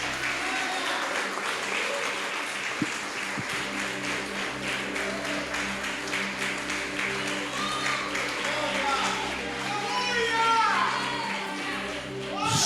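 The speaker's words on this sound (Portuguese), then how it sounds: "Você consegue aplaudir a Jesus por isso?" A church congregation claps and applauds throughout a worship ministry, steady and sustained, with voices of the crowd and an occasional raised vocal rising over the clapping toward the end.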